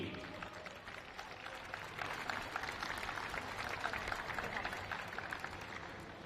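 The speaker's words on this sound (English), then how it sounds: "one big final round of applause for Mini" Crowd applause for Mini 60 kart racers at a Champions of the Future Academy event at Al Forsan, a steady wash of clapping heard from a distance, fairly faint and holding even through the whole stretch.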